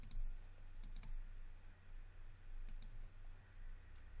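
Several sharp computer keyboard key presses during 3D modeling work, coming as a short burst near the start, a pair around the middle and a final tap at the end, close and crisp over a low steady hum with no voices.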